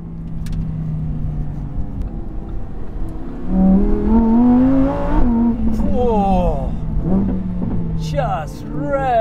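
A Lamborghini Huracan Tecnica's engine revs up toward its 8,500 rpm red line, the loud, rising howl climbing in pitch through the gears with clear gearshift drops, while someone talks over it.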